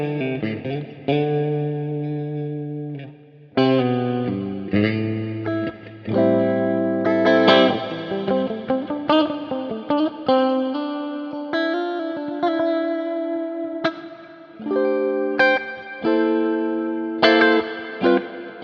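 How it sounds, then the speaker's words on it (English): A sustained melodic instrument phrase drenched in a long, smooth plate reverb from IK Multimedia X-Space, its notes blooming and trailing into lingering tails that blur from one to the next at a moderate level. "I love a good plate that's like a long, nice plate."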